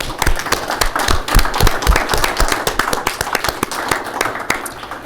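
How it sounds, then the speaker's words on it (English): Applause at a city's State of the City address honouring uniformed service members, a smaller scattered group clapping with sharp, distinct individual claps, fairly close and steady throughout. "If we can give them a round of applause."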